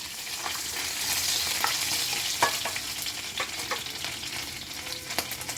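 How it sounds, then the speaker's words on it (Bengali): Whole cardamom, cinnamon and cloves fry in hot ghee for a prawn-in-yogurt curry, giving a steady close sizzle with scattered small pops and crackles throughout, no voices. "এবার দিয়ে দিচ্ছি গোটা গরম মশলা এলাচ দারচিনি আর লবঙ্গ কয়েকটা"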